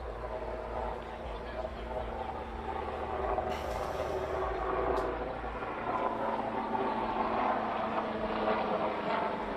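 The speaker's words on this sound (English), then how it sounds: "It's a helicopter going flying overhead." A helicopter flies overhead near an airport during a cricket cup final, its low rotor drone steady and rising slightly in loudness beneath an ongoing commentator's voice.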